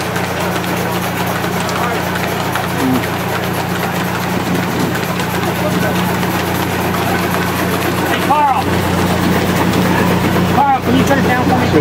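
A steam tractor at an engine show runs a big saw, with a steady low engine throb and hum throughout, brief squealing bursts from the machinery, and people talking nearby.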